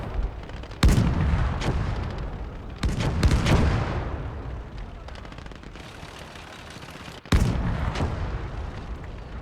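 In the Gates of Hell: Ostfront war game, heavy artillery and gunfire boom out in three sharp, loud blasts spaced a few seconds apart. Each blast rolls into a long rumbling decay, with scattered rifle and machine-gun crackle filling the gaps.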